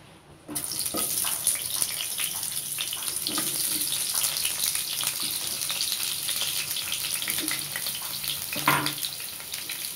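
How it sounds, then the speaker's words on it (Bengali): Pumpkin pieces frying in oil in a pan, a steady soft sizzle starting after a brief quiet moment and continuing throughout, with occasional clinks and stirring noises. "এখন আমি কুমড়োটা ভেজে নেব, দিয়ে দিব তেল"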